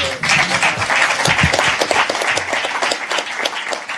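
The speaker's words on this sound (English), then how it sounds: "Let's have another round of applause for..." A crowd applauding steadily and loudly, dense clapping filling the whole stretch with a few voices faintly mixed in.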